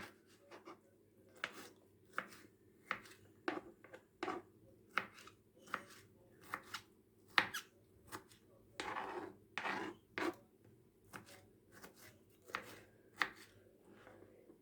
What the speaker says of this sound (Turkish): domatesimi de küp küp olacak şekilde doğrayacağım